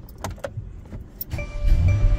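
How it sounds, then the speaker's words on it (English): A Mercedes-Benz car is started from inside the cabin, a few clicks and knocks followed by the engine cranking and settling into a low idle hum. "I'm going to go ahead and start the car."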